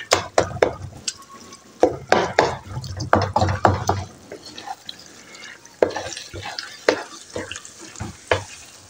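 A spoon repeatedly scraping and knocking against a pot as makhana halwa is stirred, loud clustered strokes in bursts for several seconds, then sparser scrapes over a soft bubbling background.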